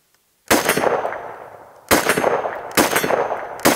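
Three loud, sharp rifle shots from a Springfield Armory Hellion ring out close by at a 50-yard range, the first followed by a long decaying echo, the last two coming in quicker succession.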